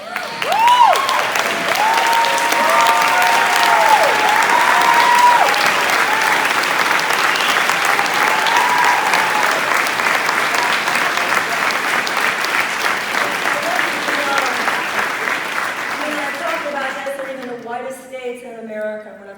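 An audience at a speech in Santa Cruz bursts into loud, sustained applause that holds steady for most of the stretch, then tapers off as a speaker's voice comes back in near the end.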